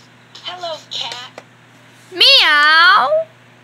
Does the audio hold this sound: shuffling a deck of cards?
no